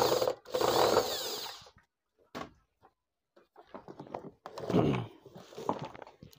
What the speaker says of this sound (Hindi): मशीन से खोल रहा हूँ। बहुत इजी तरीके से खुल जाते हैं।